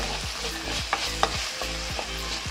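Red chili sauce and chili powder stirred in a frying pan, with a steady sizzle under repeated scraping strokes of a spoon and a few sharper clinks, close and moderately loud, no voices.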